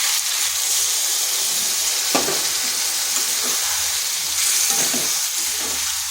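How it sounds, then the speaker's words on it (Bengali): Spice paste frying in hot oil for a Bengali rohu fish curry with ridge gourd, a steady loud sizzling hiss with a few soft stirring scrapes mixed in, close up. "এটাকে এই অবস্থায় 2 থেকে 3 মিনিট একটু কষিয়ে নিই।"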